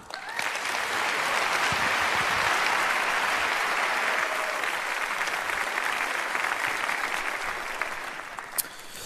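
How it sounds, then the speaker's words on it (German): Hall audience at a hacker ethics talk gives a long, warm round of applause, a dense and even roar of clapping that swells quickly, holds steady, then tapers near the end. "Also begrüßt ihn mit einem großen, herzlichen Applaus."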